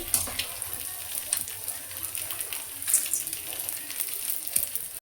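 Hyacinth beans frying in hot oil in a pan, a steady bright sizzle with crackles and small pops throughout, close and fairly loud.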